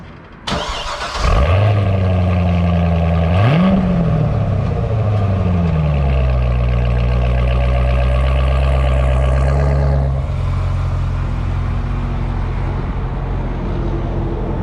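A ZR1 Corvette with an upgraded Magnetic Ride calibration fires up loudly nearby, blips its engine once, then settles into a deep, steady idle as it backs out for a test drive.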